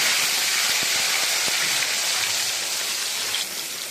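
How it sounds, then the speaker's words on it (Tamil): Curry leaves and onions hit hot oil in a pan for beef curry, making a loud, steady, close sizzle and hiss that holds for the whole stretch with no talking. "எண்ணெய் கொதிச்சிடுச்சு. கருவேப்பிலை போட்டுக்கலாம். அடுத்து வெங்காயம் போட்டுக்கலாம்."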